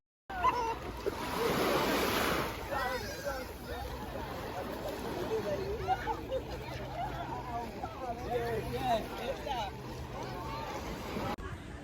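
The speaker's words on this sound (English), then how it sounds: "so we're gonna go to the beach" Waves wash onto a beach in Grenada, a broad continuous surf roar with splashes, while people talk and chatter nearby throughout.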